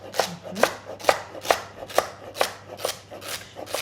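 Celery, onion and leeks being cut into big pieces with a knife on a board, about nine sharp chops in a steady rhythm, close and crisp, with a low hum beneath.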